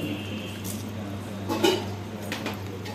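Metal lid set on a cooking pot while making motichoor laddu, a faint single clink and rattle partway through over a quiet kitchen hum, with a brief touch of clatter after.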